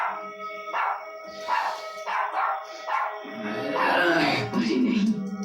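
Tuffy the dog barks loudly several times in a row, close by, with a voice speaking over the barks.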